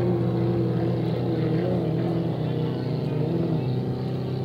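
A 2.5 stock racing motorboat engine buzzes steadily at a regatta, a constant loud whine carrying across the water without a break.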